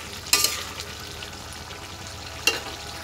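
Vegetables sautéing in a pan, a steady soft frying hiss with two sharp scraping stirs or clatters, one early and one near the end.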